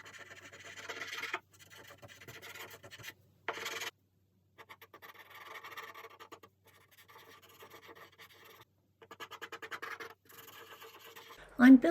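Pastel chalk scratches across paper in short bursts of dry rubbing strokes, separated by brief pauses, fairly close.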